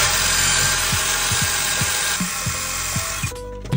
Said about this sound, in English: we're gonna scrape some of this paint off with our drill